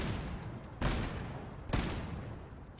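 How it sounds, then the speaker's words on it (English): Two loud shotgun blasts from a high explosive handmade shotgun in the video game Fallout 4, spaced about a second apart, each a broad sharp burst decaying into a rumbling tail, with no talk over them. "let's take on the bears with our high explosive handmade shotgun"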